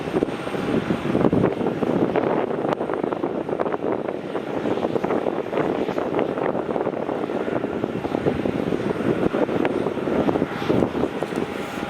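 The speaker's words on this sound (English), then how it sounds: "As we see Scoot taxiing to runway 16." A Scoot airliner taxiing to runway 16 at Melbourne Airport gives a steady, continuous jet engine roar with some wind noise, close and fairly loud throughout.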